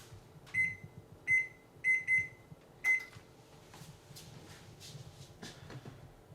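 An oven control panel chirps out a series of short, sharp electronic beeps as it is set to preheat to 400 degrees, about five bright tones in quick, uneven succession, followed by faint kitchen handling noises.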